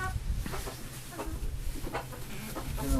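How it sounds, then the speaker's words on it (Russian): Backyard hens in a small pen in front of a shed, clucking in short, scattered bursts close by while being fed, with soft rustling underneath and no talk. "Заехали покормить курочек."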